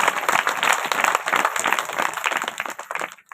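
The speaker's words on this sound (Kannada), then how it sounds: "ನೀವು ಸಹಿತ ಒಂದು ಚಪ್ಪಾಳೆ ಅವ್ರಿಗೆ ಕೊಡ್ಬೇಕಾಗ್ತದೆ" A crowd applauding at a devotional satsang gathering during a temple Kartikotsava festival, dense sustained clapping close and loud for a few seconds before tapering off.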